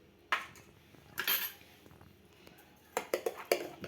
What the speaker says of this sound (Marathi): नंतर त्याच्यामध्ये हे सगळं छान मिक्स करून घ्या